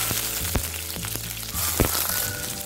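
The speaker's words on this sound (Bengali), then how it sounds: "আমি করলাগুলো যে গোল গোল করে কেটে রেখেছিলাম সেগুলো ভেজে নেব, সেজন্য আমি গরম তেলে ছেড়ে দিচ্ছি" Round slices of bitter gourd frying in hot mustard oil, a continuous close sizzle broken by sharp spatula taps and clatters against the pan.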